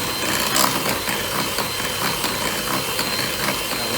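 An electric hand whisk mixes cake batter in a steady, loud, close whirring drone with a faint rattle running throughout.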